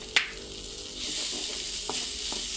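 Chili dry-roasting in a pan with a small splash of oil, for northern Thai khua kai: a steady, close hiss of sizzling with a few faint scrapes of stirring.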